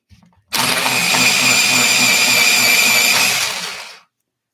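An electric pencil sharpener grinds a rose pink oil-based colored pencil in one continuous loud burst of about three and a half seconds, heard close up and alone.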